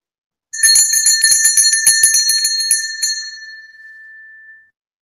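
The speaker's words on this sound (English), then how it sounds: "There's a ringing once more. It sounds slightly different than the bell at the door." A bright bell rings rapidly in a quick trill for a few seconds, then its clear metallic tone lingers and fades out.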